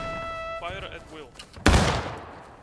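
A volley of musket-style gunfire erupts in a video game battle, a sharp loud burst after an order is shouted, with tonal sounds and voices before it and a decaying rumble after.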